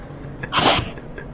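A single sharp, close sneeze bursts out over quiet room noise.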